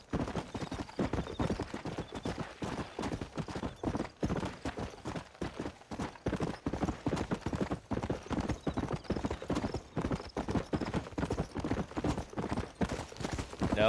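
Horse hooves clip-clop in a quick, steady rhythm, close and continuous, like a trotting horse on a hard surface, in the video game Red Dead Redemption.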